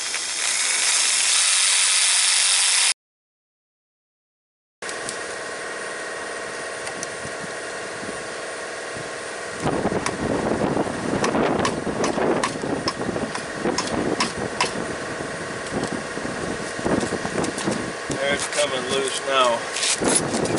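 A Sawzall cuts through a plastic bushing on a truck's S-cam assembly. After a brief hiss and a short pause, harsh, rasping bursts of cutting build and continue, with someone speaking at moments.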